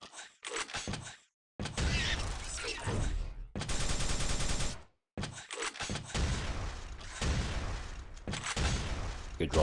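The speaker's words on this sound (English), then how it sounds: "Good rockets here." Rapid rocket launcher shots in Quake 3 DeFRaG fire in dense bursts with explosive booms, separated by brief silent gaps, at moderate level throughout a fast-paced run.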